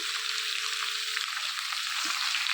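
Chopped ivy gourd pieces sizzle steadily in a pan with salt and turmeric, an even, dense hiss close by, with a faint thud near the middle.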